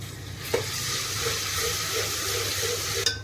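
Garlic fries in hot oil with golden-brown onions, a loud, even close sizzle with a light clink near the start and another at the end.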